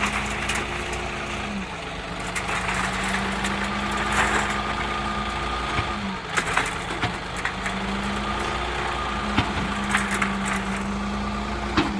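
A John Deere 3046R compact tractor idles with a steady, low mid-range engine rumble and faint vibration, close by and continuous, with a few brief clunks and knocks over the top and no talking.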